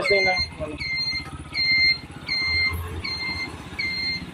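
An STX125 motorcycle engine with a misfire runs near and steady during a test, its low throbbing drone overlaid by a repeating high electronic beep about every half second, with voices talking over it.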